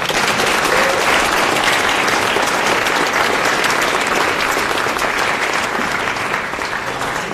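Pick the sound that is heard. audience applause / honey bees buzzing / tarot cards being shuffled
audience applause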